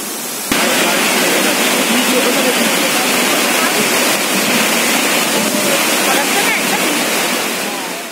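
A waterfall near Kolakham in North Bengal, with water dropping about 300 metres, roars as a loud, steady broadband rush that starts abruptly and holds unbroken with no voices.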